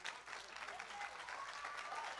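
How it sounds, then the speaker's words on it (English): A church congregation claps their hands together, a steady crowd of many clappers, fairly faint and distant in the room, with a few voices calling out over it. "Clap your hands and get ready."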